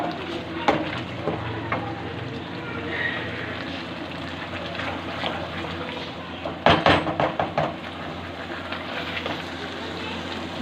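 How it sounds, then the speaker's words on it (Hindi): Masala spices for mutton karahi frying in oil, with a continuous sizzle. Intermittent clacks and scraping strokes of stirring fall over the sizzle, with a cluster of sharper knocks partway through. "माशाल्लाह हमारा मसाला बहुत अच्छे से फ्राई हो गया है, इसने बिल्कुल ऑयल को अलग कर दिया है।"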